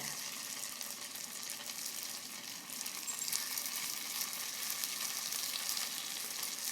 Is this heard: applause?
no